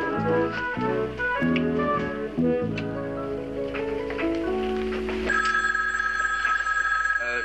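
A telephone bell rings in a home scene from the sitcom Julia, sounding in repeated trilling bursts over a soft music background, with no talk.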